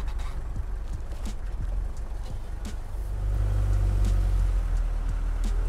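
A Mercedes G-Wagon 240GD diesel engine rumbles at low speed as the truck heads into a sand pit. The drone deepens and grows louder partway through, heard from inside the cabin.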